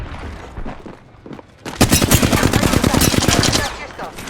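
Rapid automatic gunfire in Apex Legends: a dense, sustained burst of shots that lasts about two seconds and then cuts off, after a stretch of quieter in-game ambience.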